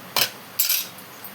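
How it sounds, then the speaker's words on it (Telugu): Raw plantain pieces, pre-soaked in salt water, dropped into a hot tempering pan: two close, bright clattering bursts, the second longer, with a faint tap after, no talk. "ఇప్పుడు అరటికాయలు వేసేసుకుంటాం."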